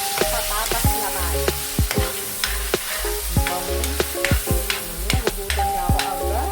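Potatoes fry in a pan with a constant close sizzle, punctuated by sharp clacks and scrapes of a utensil stirring them, no talking over it.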